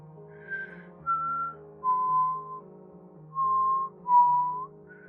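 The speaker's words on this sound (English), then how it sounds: "somebody started to whistle again" A person whistles a slow melody alone, several sustained notes with short pauses between them, clear and fairly close in a quiet space.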